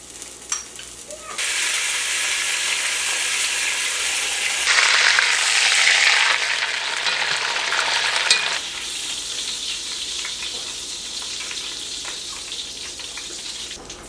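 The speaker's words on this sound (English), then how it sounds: "I have some bacon grease in my cast iron Dutch oven. I'm going to sear them on all sides" Ribs and meaty bones searing in bacon grease in a cast iron Dutch oven give a loud, steady sizzle and crackle that swells midway, then settles to a softer fry.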